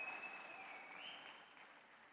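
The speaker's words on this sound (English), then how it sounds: "big round of applause for all that passion" Audience applause at a sportswear brand launch event, a steady wash of clapping that holds throughout at a fairly faint, distant level and tapers slightly toward the end.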